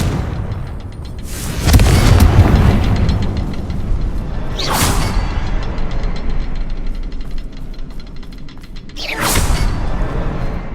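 A fiery blasting spell explodes in a Hogwarts game, a loud booming blast with a rumbling tail, followed by two more sharp whooshing bursts spaced several seconds apart over low background rumble.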